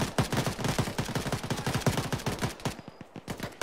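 Rapid automatic gunfire in the Arma 3 military game, a dense run of loud shots in a steady fast rhythm that keeps going almost without a break, then thins into scattered bursts near the end.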